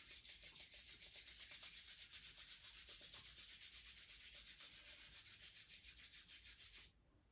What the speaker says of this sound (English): rub our hands together just to warm up our hands